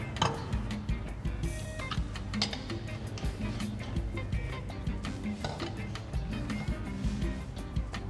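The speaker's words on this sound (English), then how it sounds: "snug them up with the tire iron." A tire iron snugs up a car wheel's lug nuts with a quick series of ratcheting clicks and metallic ticks, close and continuous over a low rumbling background.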